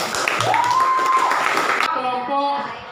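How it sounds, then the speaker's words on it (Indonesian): A classroom group claps for a presenting group in an Indonesian school lesson: a short burst of mixed clapping with a voice over it, then the clapping stops and a person goes on talking. "Oke, tepuk tangan untuk kelompok"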